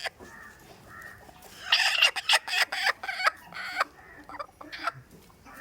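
A broody hen clucks in rapid, harsh bursts up close, pausing between flurries of agitated, grating calls.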